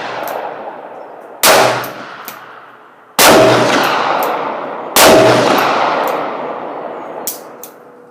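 Three loud, sharp gunshots from a Smith & Wesson 460 XVR Performance Center revolver with a longer barrel, spaced about two seconds apart, each blast ringing out into a long decaying echo with no talk.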